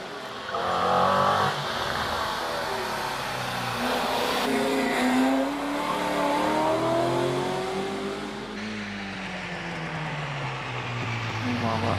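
A rally car climbs the Prescott hill climb course, its engine revving up and down through the gears with rising and falling pitch, loud and close, while a commentator talks over the noise.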